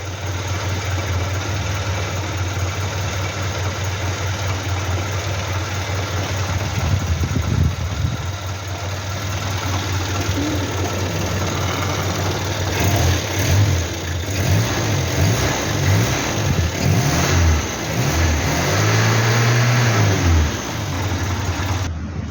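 A Hillman Super Minx engine idling close by, a steady low rumble with some uneven surges and revving in the second half; no voices.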